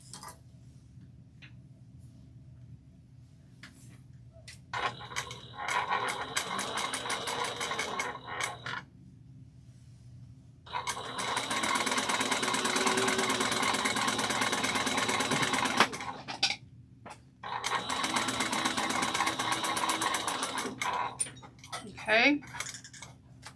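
A sewing machine stitches a seam on a backpack with a 1/4 inch seam allowance, running in three bursts of rapid mechanical whirring separated by pauses and faint handling noises.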